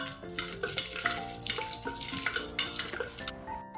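Black pepper, cumin and cashew nuts fry in hot oil with a quiet, crackling sizzle and light stirring taps, while soft tonal background music plays throughout.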